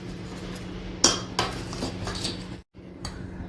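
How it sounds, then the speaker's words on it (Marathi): Brinjal, onion and spice masala mixture being stirred in a pot, with a sharp clink of a spoon against the metal followed by softer scraping and clatter, then a brief drop to silence near the end. "त्यात एकदा हलवून घेऊयात छानपैकी।"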